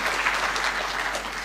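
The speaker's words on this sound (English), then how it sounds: "You should give TSC a clap." Audience applause at a public address, a dense, even wash of many hands clapping, steady and moderately loud throughout with a low hum beneath.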